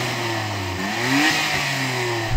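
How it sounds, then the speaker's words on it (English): A Nissan GT-R R33 engine revs at a drag race, a steady idle climbing into a brief rising rev and settling back, fairly close and heard alone. "Go on R33, rev up your motor."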